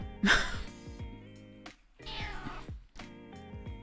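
A house cat meows several times, a loud near cry at the start followed by more drawn-out meows, with sounds of a cat over a quiet room background.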